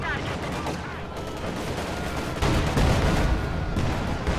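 Continuous battlefield gunfire and artillery booms from Su-76 self-propelled guns laying down a barrage in a wartime strategy game rumble and crackle densely, swelling louder midway, with a commentator's voice faintly underneath.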